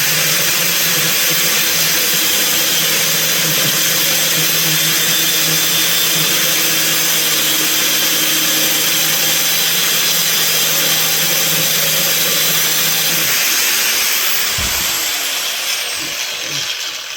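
A power tool cuts steadily through a clamped part while a Pontiac Vibe is being repaired, a loud, close, continuous grinding whine that holds for most of the run, then winds down near the end.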